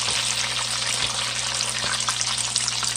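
Chicken drumettes, first dipped in water, fry in hot oil with a dense, continuous sizzle and crackle, close and loud with no talk over it.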